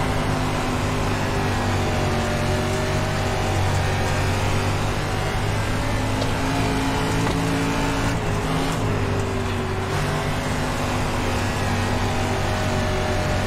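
Dirt race car engine droning steadily through the final lap of a limited-class race at Knoxville in iRacing, a loud, continuous engine note that holds a sustained hum with slight pitch shifts, with no talk.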